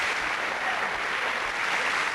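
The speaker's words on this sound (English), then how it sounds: "I'll give him a round of applause," Steady applause from a studio audience at a televised boxing discussion with Eubank and Benn, a dense even wash of clapping that fills the moment without a break.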